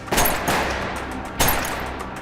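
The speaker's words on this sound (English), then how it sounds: "The robbery squad members who went to Peter Reid's address were met with gunfire." Gunfire during a police raid on a house, heard as two loud sharp broadband bursts about a second apart, each trailing off into a sustained noisy roar as though several shots or reverberation follow.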